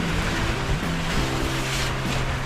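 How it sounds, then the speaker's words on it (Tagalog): Strong wind roars steadily and loudly, a broad continuous rush with a low hum beneath it and no voices. "Malakas yung hangin."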